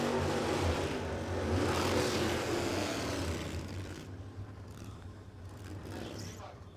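Early Ford drag cars running down the strip at Warwick Dragway in Australia, a loud sustained engine roar that swells and holds near, with a trackside voice talking over it.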